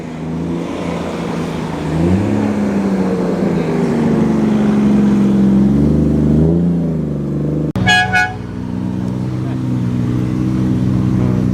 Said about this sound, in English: Off goes the Pininfarina designed Cadillac Alante.